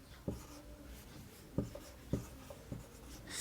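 Pen or chalk writing by hand during a computer lesson, soft scratching with four or five distinct taps and strokes spaced irregularly, close and quiet, with no talk.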